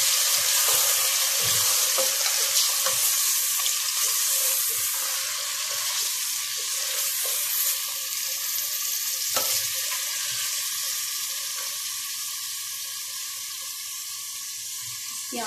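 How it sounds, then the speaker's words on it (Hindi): Okra and mutton pieces frying in a pan for bhindi gosht, a long even sizzle with occasional spoon taps and scrapes, fairly close and steady throughout, with no talking. "इसमें अच्छे से फ्राई कर लूंगी"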